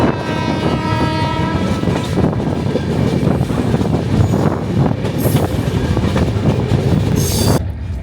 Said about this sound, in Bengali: ট্রেন এখন রয়েছে মোকামাতে।